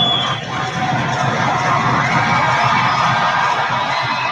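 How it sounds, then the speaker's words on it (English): A baseball stadium crowd at a Cubs–Reds game roars and cheers in a dense, sustained wash of voices, with shouts and whoops spread across the whole stretch and no single voice standing out. "Crowd being prompted to make some noise by the video boards in the outfield."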